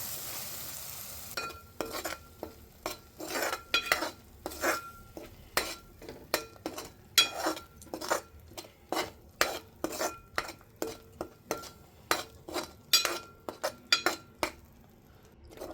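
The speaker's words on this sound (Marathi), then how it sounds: "हळदीचा चांगला रंग मसाल्याला येऊपर्यंत मसाला असा मस्त परतून घ्यायचा आहे" Ground masala paste sautés in a pan for a village chickpea-pod dish, the spoon scraping and clinking in a quick regular rhythm over a soft sizzle, close and fairly loud.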